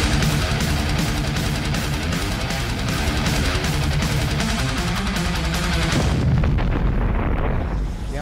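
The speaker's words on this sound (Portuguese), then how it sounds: "Tem até explosão hoje" A booming explosion effect from a TV show jingle introducing a combat-sports event rumbles continuously at high volume for several seconds, then thins and fades near the end, with no voices over it.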